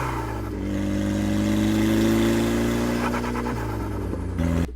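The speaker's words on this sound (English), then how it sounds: "I'm going to quickly shout out Zach, who owned that black S13, because this is his audio of his own car" A black Nissan S13 car engine revs loudly and steadily for several seconds, its tone climbing and holding, then dropping briefly before a final blip, with no voices.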